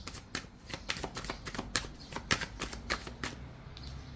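Tarot cards being handled and laid out, a rapid run of crisp papery flicks and slaps, close and fairly quiet, with no talking.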